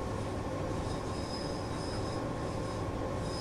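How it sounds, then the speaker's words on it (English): A train brakes on the Kurama Line toward Kyoto in the PS5 game Japanese Rail Sim, its wheels squealing with a thin steady whine over a constant rumbling rail roar, no talk. "Let's start putting brakes in."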